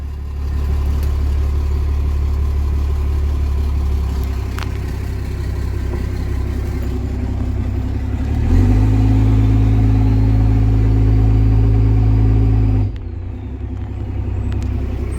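A car engine idles with a low steady rumble, briefly rising to a higher, smoother idle of about 750 RPM before settling back down.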